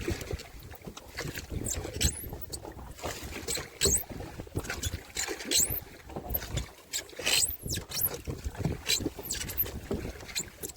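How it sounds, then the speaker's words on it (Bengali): Rowing boat rocking on choppy Sundarban river waves during a fishing trip, irregular knocks, creaks and water slaps with gusts of wind buffeting the microphone, fairly close and uneven. "নদীতে ব্যাপক ঢেউ আসছে একদম নৌকা দুলছে"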